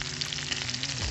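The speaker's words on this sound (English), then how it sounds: "This is my first time cooking salmon outside on this little stove" Salmon fries in a small cast iron pan on a little outdoor stove, giving a brief, steady, close sizzle with no talk.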